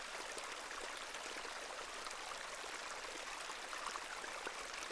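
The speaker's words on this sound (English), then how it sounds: "This is a lovely little beck." A flowing beck in The Excavation of Hob's Barrow video game gives a steady, even rush of water that holds at a constant level, with no talking.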